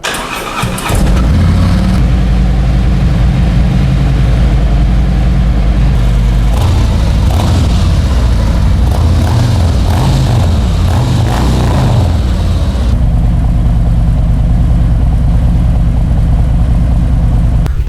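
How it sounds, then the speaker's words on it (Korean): A Harley-Davidson Road King with an SNS muffler fires up and settles into a loud, deep, lumpy idle, with a couple of blips of the throttle midway before returning to a steady rumble. "역시 SNS 머플러 어 사운드 너무 훌륭합니다."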